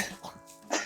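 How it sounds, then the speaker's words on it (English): A single short cough with a bit of throat clearing, faint and close, between quiet vocal sounds. "I was on the verge of like coughing really bad."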